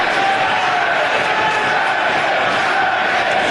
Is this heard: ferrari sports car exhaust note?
no